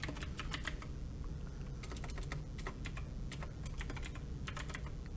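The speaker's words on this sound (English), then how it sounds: "Now if I type in here ratio" Steady typing on a computer keyboard while entering text into a spreadsheet, a continuous stream of close, light key clicks in quick irregular bursts over a low background hum, with no talking.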